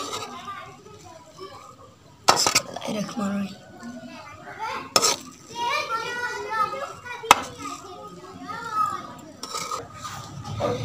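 Balori khichdi stirred in a cooking pot, with a few sharp clanks of a spoon against the metal rim and a soft mixing scrape running under continuous talk, with a voice in the background.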